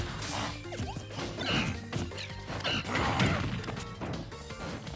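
Fighting-game strikes from up smash attacks in Super Smash Bros. Ultimate, with a Wolf player landing repeated hits: dense bursts of crashing, whacking impacts and swooshes over a busy game soundtrack, loud and continuous.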